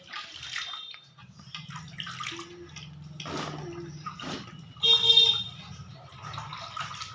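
Water splashing as someone bathes to cool off in hot weather, with irregular sloshes and splashes heard close by under cheerful talk.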